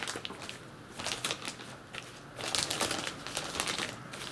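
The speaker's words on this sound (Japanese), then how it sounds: "3番袋の上のところを折りましょう。" The top of a plastic bag of soil is folded down for growing cherry tomatoes at home, giving close crinkling and rustling that comes in uneven waves and grows louder partway through.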